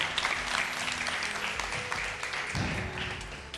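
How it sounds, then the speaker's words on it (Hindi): A studio audience on a Ramadan debate show applauds steadily for the full few seconds, a broad, continuous wash of clapping at moderate volume with a faint murmur beneath it. "बहुत सारी तालियां।"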